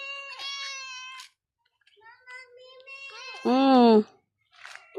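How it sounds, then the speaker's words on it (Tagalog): Several cats meow close by, one loud drawn-out meow standing out among shorter mews, with a voice chiming in between, the cats following along behind. "Yan po itong mga pusa, uy."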